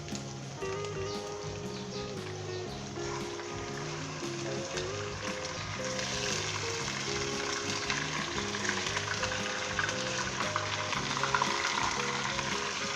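Chicken hits a karahi of fried ginger and garlic, giving a steady close sizzle with small crackles and scraping stirs, which grows louder and brighter halfway through.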